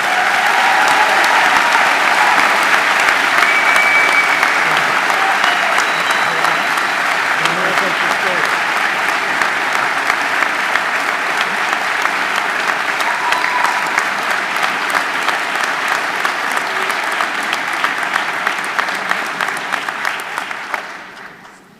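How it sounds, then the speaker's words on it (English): Sustained applause from a large audience at a graduate commencement ceremony, loud and continuous clapping that rolls on for about twenty seconds before stopping abruptly. "Let's have one more round of applause for Dr. Bresky."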